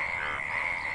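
Yellow frogs croak after monsoon rain in a steady, continuous chorus, a dense buzzing trill that stays level and fairly close without pause.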